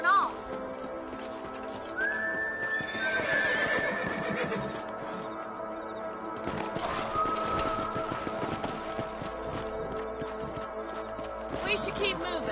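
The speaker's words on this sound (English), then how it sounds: "Let's get back on the horses and see what else is going on." Horses in the Western game Red Dead Redemption on PS5 whinny loudly and repeatedly over a steady clip-clop of trotting hooves, with someone talking throughout.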